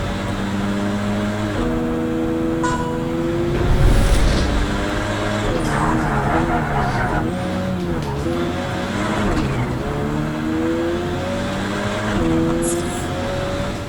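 A race car engine in the Project Cars 3 racing game howls loud and close, revving up and down through repeated gear shifts with rising and falling pitch sweeps, with tire noise mixed in for the whole stretch.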